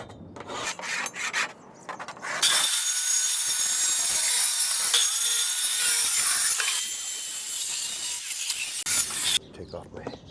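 Hand saw cutting through wooden picture frame molding to size, a steady rasping stroke sound that runs for several seconds after a few light knocks and handling noises, close and fairly loud.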